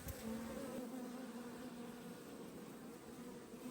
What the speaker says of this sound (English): So here we are by our beehives